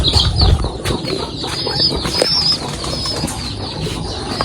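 Pigeons and young squabs kept indoors in a crate coo and flap their wings close by, with a burst of louder fluttering at the start and steady rustling and calls after it.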